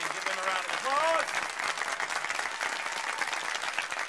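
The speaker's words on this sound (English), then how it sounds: "Give them a round of applause." Audience applause at an awards ceremony for a film, a dense wash of clapping from a crowd that carries on steadily throughout, with a brief voice or cheer near the start.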